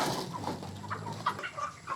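Chickens about 50 days old cluck softly nearby in short, scattered calls over a low background rumble.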